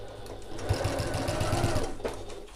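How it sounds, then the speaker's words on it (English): Sewing machine back stitching over the end of a fabric casing, a short close burst of rapid rhythmic needle stitching that runs steadily and then stops. "And I'm going to back stitch over the end of the casing."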